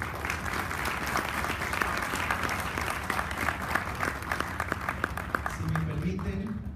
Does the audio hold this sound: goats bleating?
no